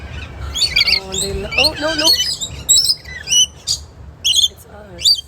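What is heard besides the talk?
birds chirping and squawking during bird feeding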